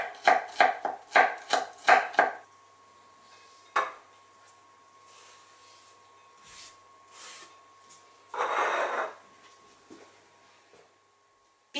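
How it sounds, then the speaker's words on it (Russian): Three garlic cloves being finely chopped with a knife on a board, a quick run of sharp rhythmic chops up close, then scattered knocks and a scrape as the pieces are gathered. "Можно натереть на терке или мелко порезать. Мне больше нравится порезанный чеснок."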